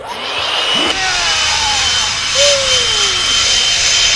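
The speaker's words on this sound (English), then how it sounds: "This is a leaf blower." A leaf blower runs close by with a loud, steady, whooshing roar and a high whine over it. The pitch wavers slightly as the machine is moved.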